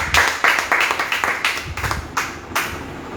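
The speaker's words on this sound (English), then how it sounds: "Clap your hands for Jesus." A few people clap hands in a steady rhythm at a church service, moderately close, with faint voices underneath.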